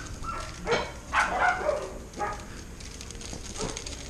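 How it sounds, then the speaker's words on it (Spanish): Dogs bark a few times in the background during a home basket-weaving session with wicker and plastic: short, fairly faint yelps scattered across a few seconds over steady room noise. "Y los perritos que quieren salir en el video, se escuchan de fondo."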